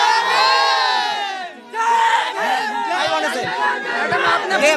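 A large crowd at an election rally shouts and chants together, a loud dense mass of voices with cheering swells, briefly dipping before surging again.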